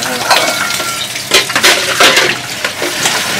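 Snakehead fish fry in a hot pan with a loud, dense sizzle and crackle that swells in bursts, close up and steady throughout.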